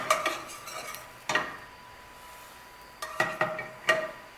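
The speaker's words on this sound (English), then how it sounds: "so deglaze in the pan" Red wine is poured into a hot pan and stirred with a utensil to deglaze it while making New Mexican carne adovada with browned meat and sautéed onions. A soft sizzle runs under a few sharp scraping clicks, with no talking.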